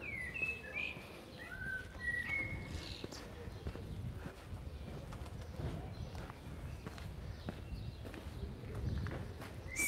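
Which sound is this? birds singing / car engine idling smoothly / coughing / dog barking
birds singing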